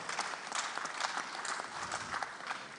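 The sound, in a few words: audience applause for a conference speaker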